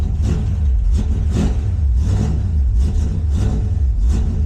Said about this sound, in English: let's go ahead and fire this car up